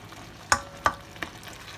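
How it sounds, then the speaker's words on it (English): Tomatoes and crushed chilies are sautéed in a pan, with quiet background sizzle and three sharp utensil knocks against the pan at uneven intervals, no voices. "So you just have to mix it, sauteing it with flavoring and all"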